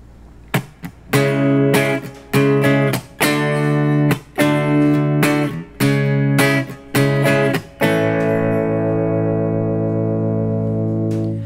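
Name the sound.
guitar chords hit hard on the upbeat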